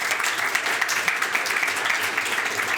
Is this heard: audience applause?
yes